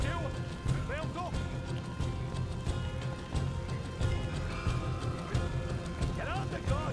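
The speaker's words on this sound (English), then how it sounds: "Get on the goddamn horse," Horse hooves clip-clop at a gallop in the Red Dead Redemption 2 video game, a steady drumming rhythm running under game music and urgent shouted dialogue from characters.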